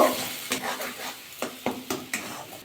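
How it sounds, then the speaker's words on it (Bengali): A pea filling with salt, turmeric and sugar is stirred in a wok over a soft sizzle, a spoon scraping in quick repeated strokes near and clear, without any talk. "আবার নাড়াচাড়া ভালো করে মিশিয়ে নেব।"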